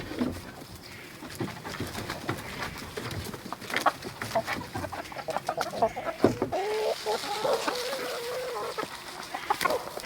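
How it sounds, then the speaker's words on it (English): Chickens cluck and squawk nearby, with roosters crowing and squabbling loudly at a fence in a flurry of agitated calls. "A little bit of a rooster showdown there at the fence."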